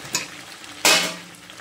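Potatoes drop into chicken frying in a pan, setting off a loud burst of sizzling that slowly fades back to a steady fry, with a smaller spatter of sizzle just before.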